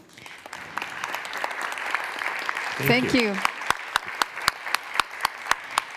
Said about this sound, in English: a big applause for our dear colleagues